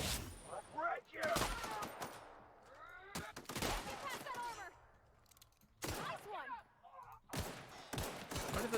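Gunfire from The Outer Worlds video game comes in sharp, loud bursts of rapid shots, mixed with voices talking in between.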